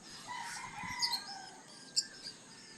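A neighbor's rooster crows at a moderate distance, a stretched, wavering call with a couple of sharper high notes, over quiet background noise.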